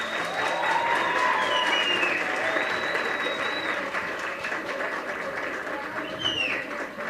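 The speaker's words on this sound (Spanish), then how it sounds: "un aplauso para ustedes" Sustained audience applause fills a university lecture hall during an academic debate on capitalism versus socialism, a dense, steady wash of clapping from many hands throughout, with some crowd noise mixed in.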